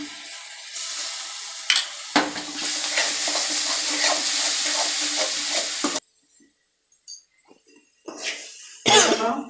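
Ginger garlic paste frying in a pan for a prawn gravy, loud close sizzling with repeated spoon scrapes and stirring, cut off abruptly, then quieter clinks and a short final sizzle.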